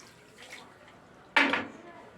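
A cup of water is poured onto sugar in a bowl while making Homs-style Eid qras pastries, a short close splashing gush of liquid after quiet room noise.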